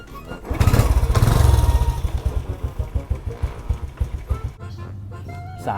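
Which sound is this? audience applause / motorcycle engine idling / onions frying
motorcycle engine idling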